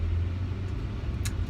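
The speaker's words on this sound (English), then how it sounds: "I'm just trying to see if traffic is coming." Passing road traffic: a steady, close, low car rumble rolls through the whole stretch, with a faint brief hiss near the end and no voices.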